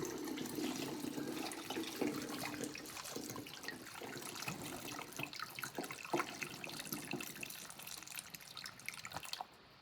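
Warm concentrated juice being poured into a container, a steady liquid splashing and trickling close by that continues throughout and thins out at the end.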